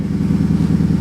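Low, throbbing idle of a truck engine running close by, loud and even with a slight mechanical clatter, no voices over it.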